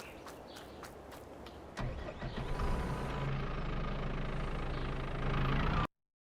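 Forklift engine running in Farming Simulator 22, a steady mid-pitched idle hum that grows louder after a starting surge, holding constant before cutting off abruptly near the end.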